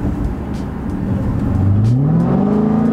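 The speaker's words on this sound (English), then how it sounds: "That is just a mid-muffler delete straight pipe, and it sounds so stinking good." A Dodge Challenger Hellcat with a mid-muffler delete straight pipe revs loudly and close, its exhaust note climbing in pitch from a low rumble into a sustained high roar with no talking.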